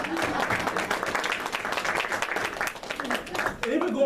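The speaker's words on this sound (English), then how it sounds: "give that woman a round of applause" An audience at a youth motivational talk breaks into applause, with broadband clapping that rises and falls before a voice cuts in near the end.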